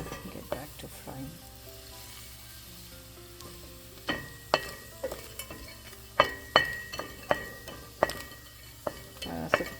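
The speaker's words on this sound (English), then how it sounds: "I'm going to lower the heat and get back to frying" Hot oil sizzles steadily close by as spices and asafoetida fry, with sharp metallic clinks of a utensil stirring the pan, growing more frequent in the second half.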